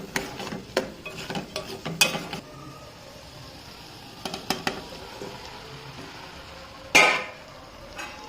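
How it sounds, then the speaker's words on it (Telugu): Chili being pounded by hand in a home kitchen, sharp irregular thuds in small clusters spaced across the clip, fairly close but not loud, with quiet background noise between strikes. "కారం దంచుకుంటున్నది కూడా."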